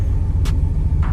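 A pickup truck fitted with a 4L60E automatic transmission accelerates gently, a steady deep engine rumble close by, with two brief bursts of hiss.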